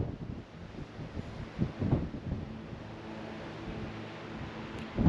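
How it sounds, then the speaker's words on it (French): Gusty wind buffets a microphone outdoors on clifftops, a steady low rumble with louder surges near the middle and end, no voices. "Je sais pas si vous m'entendrez avec le vent"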